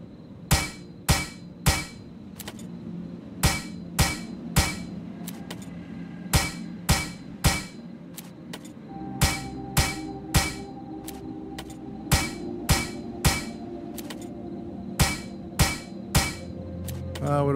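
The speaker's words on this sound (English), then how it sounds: "So let me hammer away and get some stuff." Repeated hammer blows while crafting in the survival game Plains of Pain, sharp metallic strikes landing in irregular bursts of two to four, loud and close over a low steady background hum.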